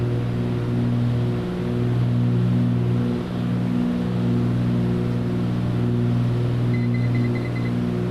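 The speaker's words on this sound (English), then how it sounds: "That beeping sound you just heard, that's the autopilot." Autopilot altitude alert in a Cessna C310R in Microsoft Flight Simulator, a short series of faint, rapid electronic beeps at the 1,000-to-go point, heard under a constant loud twin-engine cockpit drone.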